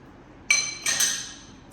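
A brake rotor spacer clicks onto the hub of a car during an MK7 R big brake upgrade, giving two sharp metallic clinks about a third of a second apart, each trailing off in a brief ringing tail, with no talking.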